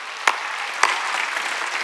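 A church congregation at a Korean Wednesday worship service claps in a brief steady wash of applause, marked by two sharper claps standing out near the start.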